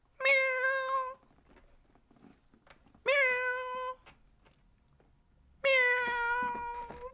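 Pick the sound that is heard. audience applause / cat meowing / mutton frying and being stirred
cat meowing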